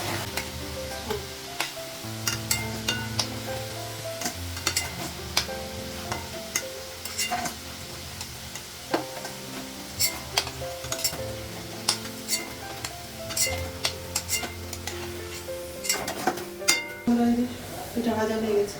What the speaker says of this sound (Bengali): পিঠা ভাজা হয়ে গেছে